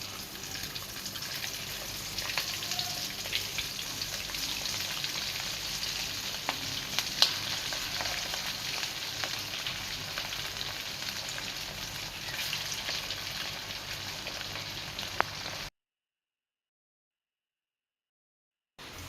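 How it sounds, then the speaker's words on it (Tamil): Spinach cutlets deep frying in hot oil give a steady, dense sizzle with crackles, close and even for about fifteen seconds before cutting to silence. "இதை டீப் ஃப்ரை பண்ணி"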